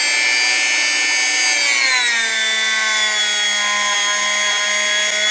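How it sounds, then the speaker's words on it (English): Hard felt polishing wheel with compound buffing a Singer 66 class bobbin case, a loud, continuous high whine whose pitch drops slightly as the part presses into the spinning wheel, steady throughout with no talk. "These hard felt polishing wheels that I buy from Amazon really are marvelous for this detail work."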